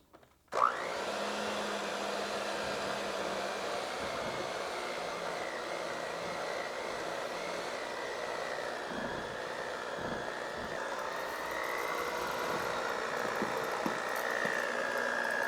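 An electric whisk whirs continuously through royal icing made with sugar in a bowl, a steady high motor drone starting abruptly and holding alone at close range.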